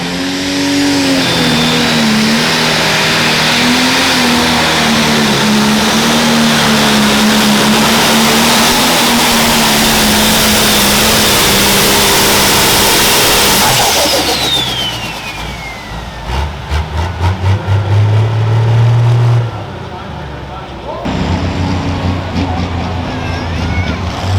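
A loud, roaring John Deere 8370R Pro Stock pulling tractor revs hard for a long stretch down the track in Monticello, Iowa, then drops away into rumbling and sputtering bursts, with faint voices in the background.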